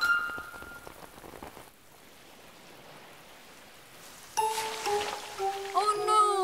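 Cartoon rain pours as a steady hiss through the first half, fading under a quieter wash, before bright voices and harmonic cartoon tones break in near the end.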